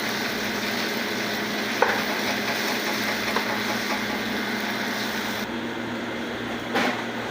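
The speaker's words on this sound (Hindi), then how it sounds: "ये भिंडी हमारी बिल्कुल फ्राई हो चुकी है अच्छे से" Okra (bhindi) fries in a pan for a dhaba-style dish, giving a steady, continuous sizzle with a few brief scraping stirs, close and uninterrupted by talk.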